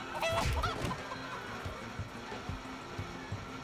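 Chickens cluck in a Minecraft Story Mode scene, with a burst of loud clucking near the start settling into steady, softer clucks and pecking-like noises over a background din.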